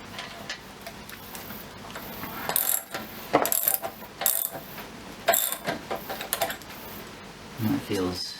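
A 3/4 inch bolt is tightened on a Scott Bonnar 45 mower's rear roller sprocket, giving close, irregular bursts of ratchet clicking and metallic rattles between brief pauses.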